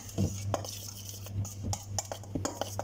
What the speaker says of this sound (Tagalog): Haluin muna natin sila. Ng ganito.